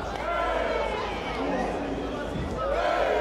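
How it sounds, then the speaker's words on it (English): Excited crowd murmuring and calling out at a live fighting contest as two men trade blows, a steady dense roar of voices throughout with a commentator's voice over it. "you can hear the excitement still palpable in the crowd"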